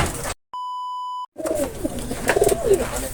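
A single steady electronic beep, then soft, low racing pigeon coos repeating against a noisy outdoor background.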